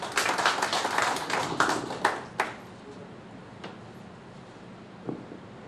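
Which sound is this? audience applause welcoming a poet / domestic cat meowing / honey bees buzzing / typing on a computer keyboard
audience applause welcoming a poet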